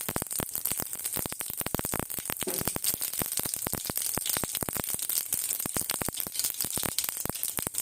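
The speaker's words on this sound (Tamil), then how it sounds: "கடுகு பொரிஞ்சிச்சு." Mustard seeds pop and splutter in hot oil, a dense run of sharp crackles and snaps over a steady frying hiss, close and fairly loud throughout.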